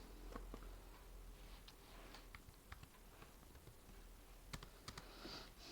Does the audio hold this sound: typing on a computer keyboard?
yes